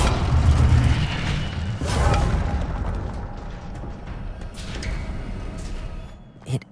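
A fire spell, Incendio, cast in Hogwarts Legacy, booming, roaring bursts that swell and fade amid continuous game noise, ending in a sharp crackling pop.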